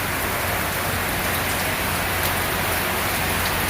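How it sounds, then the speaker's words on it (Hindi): Heavy rain pours down in a dense, steady hiss, loud and unbroken throughout, with no voices. "शायद की आवाज़ से आप लोगों को अंदाज़ा हो जाए कि बारिश की शिद्दत"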